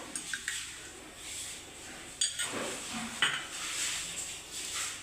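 A spoon clinks against a bowl while gram flour, rice flour and curd are added, a few sharp metallic taps spaced apart over a soft, steady background hiss.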